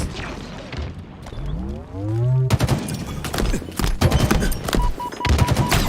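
Rockets whoosh and explode amid bursts of gunfire in a shooter video game, a rising swoop followed by a loud boom and a dense, uneven stretch of rapid shots and impacts.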